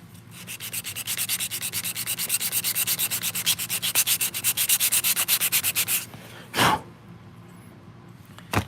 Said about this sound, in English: the sort of final sanding and fitting